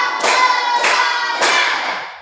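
A primary school class claps together in a rhythmic clap chant, producing three loud, dense bursts of many hands in quick succession from a nearby group.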